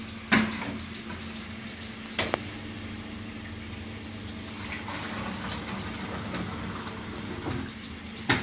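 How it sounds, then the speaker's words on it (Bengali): Water runs from a kitchen tap to fill a pot during home cooking, a steady, even rushing stream heard close up, with a few brief knocks at the start and end. "জল ভরতে হবে।"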